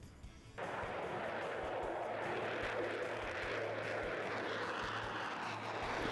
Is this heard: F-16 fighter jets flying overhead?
yes